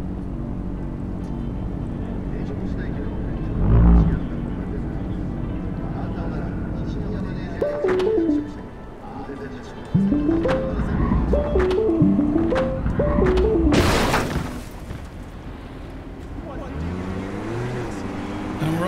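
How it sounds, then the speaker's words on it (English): A small city car drives in the video game Cyberpunk 2077, its engine humming steadily with rising and falling pitch as it shifts and accelerates, joined by a brief thump and other game sounds. "And we're off in our little city car again."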